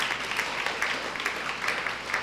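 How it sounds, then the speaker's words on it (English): Applause from a crowd at a school district meeting, a steady wash of clapping with no voices above it. "So a huge round of applause to that."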